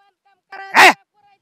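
A dog on a farm gives a single short, sharp bark up close, preceded by a brief whining note, with silence around it.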